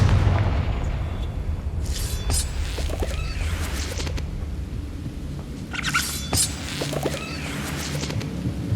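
Confringo fire spell from Hogwarts Legacy, two heavy booming blasts a few seconds apart, each with a bright crackling burst over a constant low rumbling game background.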